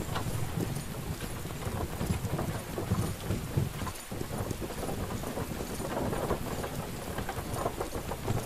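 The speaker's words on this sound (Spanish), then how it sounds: "Bien, y ahora llueve." Steady rain with low rumbling thunder in the survival game Myth of Empires, a dense continuous wash of rainfall over a deep rolling rumble, fairly loud throughout with no voices.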